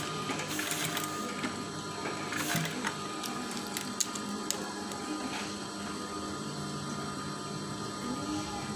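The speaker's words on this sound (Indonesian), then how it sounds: "Lalu kita jahit lagi." Continuous close hum of a sewing machine stitching curtain fabric, steady and unbroken with faint clicks and no speech.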